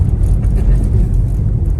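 A standard Skoda Kodiaq 4x4 drifts on a frozen lake in Sweden, its engine a loud, close, steady rumble with road and tire noise while people talk inside the car.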